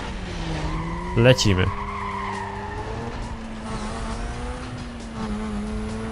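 Brief tire screech from a Mazda RX-8 with a 1.3-litre rotary Wankel engine skidding in Need for Speed Most Wanted, a short loud squeal burst over a steady engine drone, with someone talking.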